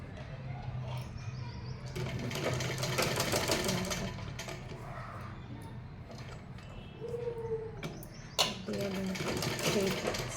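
A sewing machine stitches a straight seam in steady rapid bursts that stop and restart, while someone talks over the whirring.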